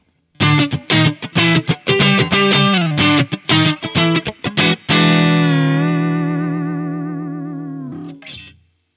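Distorted Fender American Ultra Luxe Vintage 60s Stratocaster through a Marshall JTM Studio tube amp, warm overdriven tone: a quick run of chords and notes, then one long ringing chord that slowly fades.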